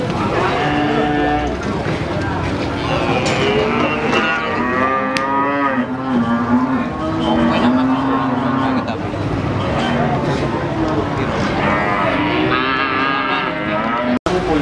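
Limousin cattle moo loudly and repeatedly during weighing at a livestock market, with long, drawn-out bellows that overlap continuously and people talking in the background.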